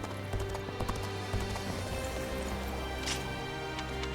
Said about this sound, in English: Cao Cao's horse.